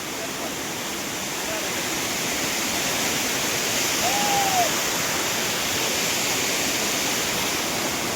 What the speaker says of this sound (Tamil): இது மெயின் வாட்டர் ஃபால் கிடையாது, ஏதோ ஒரு ஹிடன் வாட்டர் ஃபால்.